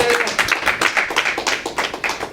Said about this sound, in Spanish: Un aplauso al Señor en esta mañana.